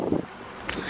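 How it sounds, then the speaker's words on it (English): Wind gusts outdoors in spring, a brief rumbling buffet of wind noise against the microphone that eases and then rises again over about a second. "Ooh, it's windy."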